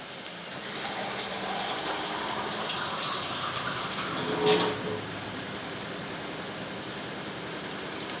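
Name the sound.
water being poured for cooking dal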